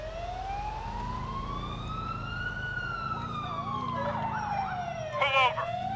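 An ambulance siren in the video game GTA IV wails in a long slow rising and falling sweep over engine rumble, then switches to a faster yelp near the end, loud and close.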